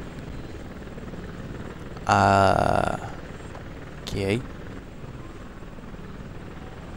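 A helicopter in the video game ONI gives a loud whirring burst lasting about a second, then a shorter, fainter second burst. A voice briefly speaks over the game sound.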